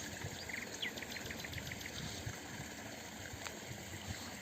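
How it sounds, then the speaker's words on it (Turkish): Birds chirp in short, sparse calls over the soft, continuous rush of flowing water in the countryside near Taşköprü, Kastamonu, the whole scene faint and distant with no talking. "Kuş seslerini duyuyorsunuz. Su sesi."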